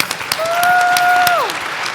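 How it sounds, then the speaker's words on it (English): A room full of people applauds steadily, with a sustained tone gliding downward partway through. "Let's give them a round of applause for their work."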